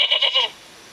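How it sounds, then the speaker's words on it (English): Goat bleating in a short, loud, wavering cry lasting about half a second, then silence. "Which of these is the sound that a real goat makes?"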